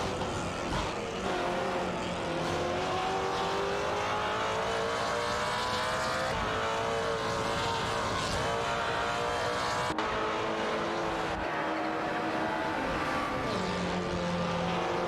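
Race car engines roar continuously in an AI racing video game, several high-revving motors overlapping with rising and falling pitch as cars overtake, loud and sustained throughout.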